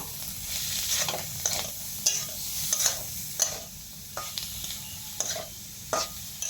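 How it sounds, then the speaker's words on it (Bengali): Grated carrot is stirred into lightly fried onion in a pan for paneer cutlet mixture, with repeated scraping strokes of a spoon over a faint steady sizzle, close and moderately quiet. "গাজরটা দিয়ে ভালো করে মিশিয়ে নেব"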